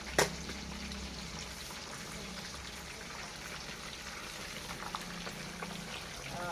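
Boiled pork belly deep-fries in oil in a small pan, bubbling and sizzling steadily in a dense crackling hiss up close, with a few sharper pops scattered throughout.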